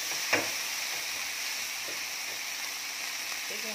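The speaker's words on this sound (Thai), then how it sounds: "อันนี้เราก็จะเริ่มคั่วให้เขาแห้งเลยค่ะ" Vegetarian pork khua kling, a dry Thai curry, stir-fried until dry in a pan, giving a steady sizzle with one brief scrape of the spatula near the start.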